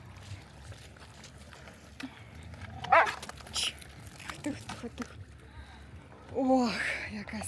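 A dog at a lakeside campsite near paddleboards gives a few short barks and whines, with people talking nearby over light outdoor background noise.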